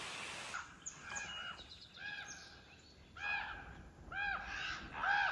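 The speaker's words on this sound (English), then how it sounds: "There are some really obnoxious crows out there." Crows caw repeatedly over a grassy yard beside a creek on the Appalachian Trail in Vermont, a series of harsh calls that grow louder and more insistent toward the end.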